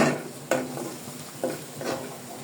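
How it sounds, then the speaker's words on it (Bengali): Chopped onion fries lightly in oil for a Bengali katla fish dopeyaza, a soft sizzle broken by a few sharp utensil taps and stirring scrapes, close and moderately loud, no voices. "এখানে পেঁয়াজ কুচি তেলের মধ্যে হালকা করে ভেজে নেওয়া হচ্ছে"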